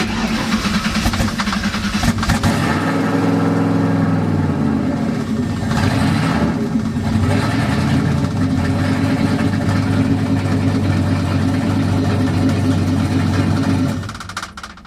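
A Ford car engine cranks for a couple of seconds, then catches and settles into a loud, steady idle up close, running on until it cuts out near the end.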